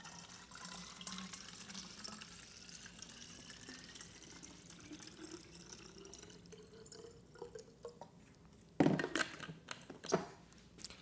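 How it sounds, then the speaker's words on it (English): Water running through a filter into a kitchen water pitcher, a quiet steady trickle and drip that rises in pitch as the pitcher fills, with a few louder clunks near the end. "And now my water pitcher fills up so fast."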